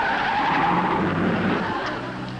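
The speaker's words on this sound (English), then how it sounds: "Oh, look, here comes the car." A car from a 1950s sitcom drives up on a road, its tires skidding and squealing loudly as it slows, with a steady engine rumble underneath.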